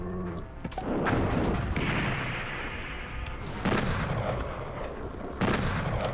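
A pillar firing shots in Mayhem Mansion's city level, loud blasts arriving in several bursts with heavy rumbling impacts and crashing debris between them, no voices.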